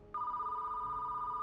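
A telephone rings in the video game Hellmart, a steady electronic trill that starts abruptly and holds without a break, fairly quiet and heard alone.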